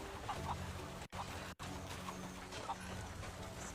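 A chicken clucks in a video game, a few soft bird calls heard faintly over a constant hum of game background noise, which cuts out for two brief moments.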